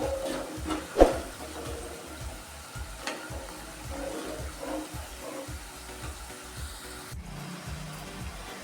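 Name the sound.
nimki dough frying in hot oil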